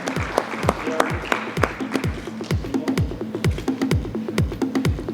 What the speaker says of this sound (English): A big round of applause for Rajiv for his wonderful contribution in the panel session.